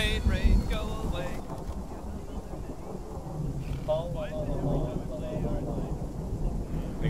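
Rain and rolling thunder in a video game, a low rumbling storm bed with wind under faint voices.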